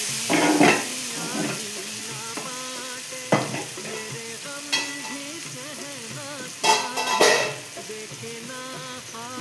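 Vegetables already fried in fish oil are tipped into a hot pan and sizzle steadily, with stirring scrapes and bursts of louder hissing as pieces hit the oil, while someone talks over the cooking.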